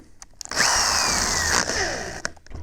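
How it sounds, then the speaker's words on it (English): A power drill whirs loudly and close for about a second while drilling into an RV-10 aircraft wing, then winds down. Short clicks and clatter come before and after. "And make sure the drill's going the right way."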